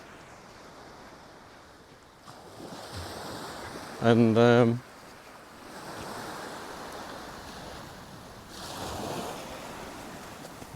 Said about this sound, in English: so you can see the water coming in.